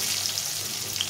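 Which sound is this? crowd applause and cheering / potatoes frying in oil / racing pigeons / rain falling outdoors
potatoes frying in oil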